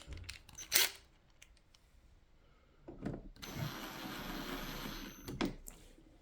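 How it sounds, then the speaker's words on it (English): Screws being driven into the plastic housing of a Chilisleep Dock Pro during a flooding repair: a sharp clatter near the start, then a close, steady whirring grind lasting about two seconds that ends with a few handling knocks, no voices. "Redo these screws."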